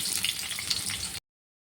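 Onions and green chillies sizzle in a hot oiled pan while cooking gobi manchurian, a steady close hiss lasting about a second before cutting off.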